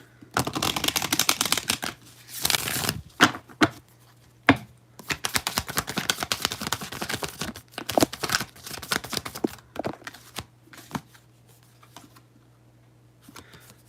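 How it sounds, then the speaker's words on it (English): Deck of oracle cards shuffled during a live reading, producing long dense riffles and rapid card flutters in bursts separated by short pauses, close and fairly loud, without talk. "let's pull an oracle card, Rebecca."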